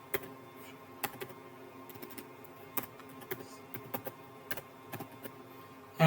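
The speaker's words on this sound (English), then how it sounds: "Now I type my workspace name here." A workspace name is typed on a computer keyboard during an online chatbot account registration: quick, light key clicks in an uneven rhythm, close and fairly quiet, with a louder clack at the end.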